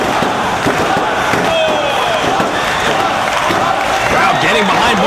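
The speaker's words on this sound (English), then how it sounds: "Crowd getting behind both men here." Wrestling arena crowd roaring steadily through a match, a dense continuous cheer with commentary voices talking over it.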